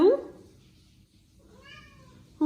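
A cat meows twice, short close calls with a quiet pause between them in a still room.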